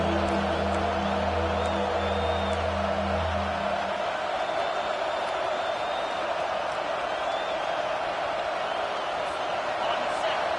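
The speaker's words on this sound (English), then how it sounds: "Man, this crowd really affecting the football game." Home football crowd roaring in a stadium during a game, a loud sustained din that stays steady for the whole stretch while a voice talks over it early on.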